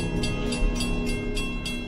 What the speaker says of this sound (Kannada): ಹಾಗೆ ಆಚೆಯಿಂದ ನೋಡಿದರೆ ಟ್ರೈನ್ ಬರ್ತಾ ಇರುತ್ತೆ.